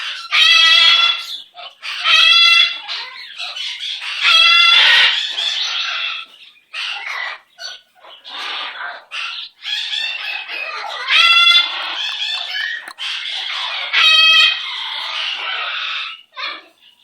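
A pet bird gives loud, close calls in repeated bursts, harsh squawks and crowing-like cries broken by short pauses, with no talk over them.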